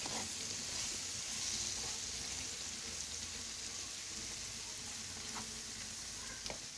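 Okra frying in olive oil in a pan, a steady soft sizzle with faint crackles and an occasional stir, no talk.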